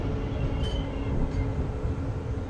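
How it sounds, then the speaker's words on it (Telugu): Sanghamitra Express hauled by a WAP-7 electric locomotive, a heavy continuous rumble of rolling wheels and carriages close by, with a couple of brief high squeals riding over the steady roar. "లీడింగ్ బై వ్యాప్ 7 లాలాగూడ లోకమోటివ్ అండి. ఈ ట్రైన్ ఏమో దానాపూర్ నుంచి వస్తుంది"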